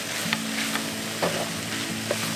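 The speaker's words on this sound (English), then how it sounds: "Mix this all up." Shrimp Thai basil fried rice mixture sizzling in a hot pan while being stirred, with steady frying hiss and a few soft scraping strokes of the utensil.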